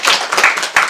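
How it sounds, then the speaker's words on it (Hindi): Brief burst of audience clapping at a training session, a few quick claps from a small group, close and fairly loud. "तालियां बजाइए इनके लिए"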